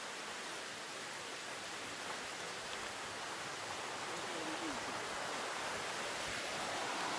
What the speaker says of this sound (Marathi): आवाज आहे पाण्याचा काय.